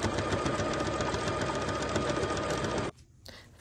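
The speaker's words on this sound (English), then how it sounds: "pin the open hole and prepare it for top stitching" A sewing machine runs steadily, top stitching the pinned opening of a roll-up bag, then stops abruptly near the end, leaving a short quiet tail with faint handling noise.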